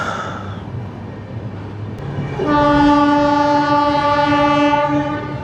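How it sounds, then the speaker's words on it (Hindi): The Nanda Devi Express, a Dehradun–Kota passenger train, arrives at a station with a rumbling approach and then a loud, sustained horn blast ringing out close by. "सामने है नंदा देवी एक्सप्रेस, ये जस्ट आई है"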